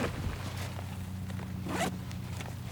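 A large zipper pull slid open along a compartment of a tactical backpack, the IBEX-35 Vanquest, giving a close, continuous zipping rasp with one louder burst toward the end.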